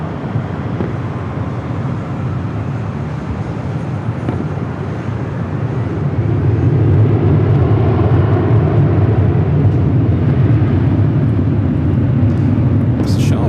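A SkyWest jet airliner takes off from runway 24 left at LAX, a broad engine roar that swells and holds loud and steady, heard from near the flight path.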